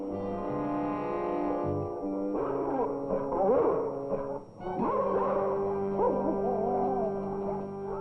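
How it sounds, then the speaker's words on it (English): Guard dogs at an obedience school bark and yelp in irregular bursts from an old film soundtrack, heard under steady background music. "Guard dogs must be taught to act ferociously."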